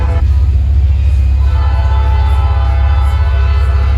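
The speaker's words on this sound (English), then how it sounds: "I'm being held up by a train running in the middle of the damn street" A train running down the middle of a city street, heard from a waiting car as a loud, steady low rumble and drone that fills the whole stretch, with no talking.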